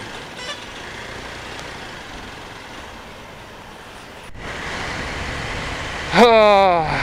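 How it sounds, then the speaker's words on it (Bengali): Big trucks pass on a pothole-ridden road during a bike ride, a steady rumble of traffic and wind that swells midway, then a loud truck horn blares near the end. "সামনে থেকে বড় বড় ট্রাক আসছে, এদিক দিয়েও যাচ্ছে"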